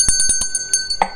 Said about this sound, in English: There we go. The bell is back.